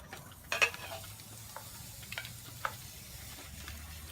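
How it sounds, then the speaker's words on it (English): Two pounds of ground beef browning in a preheated Dutch oven outdoors, a soft steady sizzle with occasional scraping stirs and light utensil clinks, close and fairly quiet. "we're going to brown up our hamburger first"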